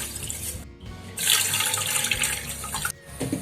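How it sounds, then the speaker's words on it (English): Water pouring from a tap into a pan holding a cup of sugar for rasmalai syrup, a steady splashing stream that runs for about two seconds between brief pauses. "To this we'll add 5 cups of water."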